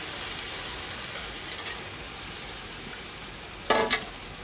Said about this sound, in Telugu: ఈ ఆనియన్, గరం మసాలా మొత్తము వేడైపోయిందండి. ఇది రైస్ వేసుకున్నాను